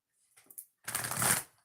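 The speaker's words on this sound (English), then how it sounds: "One more shuffle." A deck of cards is riffle-shuffled during a live oracle card reading: a few light taps, then one close, dense half-second burst of fluttering cards, alone without talk.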